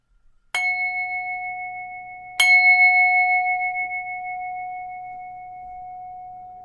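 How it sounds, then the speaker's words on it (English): Two clear strikes of a small bell about two seconds apart, each ringing out with a bright, sustained tone that lingers and slowly fades, alone in a quiet room. "I'm going to ring the bell"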